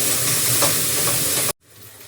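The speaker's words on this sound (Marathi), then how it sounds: "कोथिंबीर थोडीशी तेलात परतून घेते" Chopped coriander sizzles loudly in hot oil in a pan, a dense close hiss that cuts off abruptly, leaving faint room noise.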